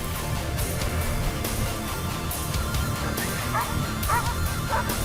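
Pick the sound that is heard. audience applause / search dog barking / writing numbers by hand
search dog barking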